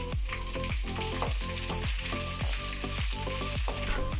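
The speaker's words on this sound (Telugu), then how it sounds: "అయితే ఈ మిరపకాయలు పోసి వేయించుకున్నాం." Red chilies frying in hot oil in a pan for gongura pachadi, a continuous close crackling sizzle under a rhythmic series of regular low thumps, with no voices.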